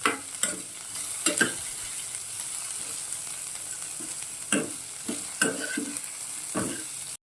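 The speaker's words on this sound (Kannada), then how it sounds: "ಈರುಳ್ಳಿ ಸ್ವಲ್ಪ ಫ್ರೈ ಮಾಡ್ಕೊತೀನಿ." Onion frying in a pan, steady sizzle broken by repeated scraping stir strokes in bursts, moderately close with no talking.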